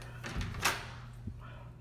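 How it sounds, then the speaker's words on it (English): A hotel room door in Boston swings open with a soft rustle, a muffled thump and a later faint knock. Each sound is brief, close and low in level. "So we're gonna go through this door where we came from."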